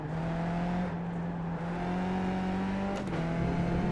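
A race car engine in the iRacing simulator holds a steady drone, and near the end a brief blip marks a downshift before the tone settles again.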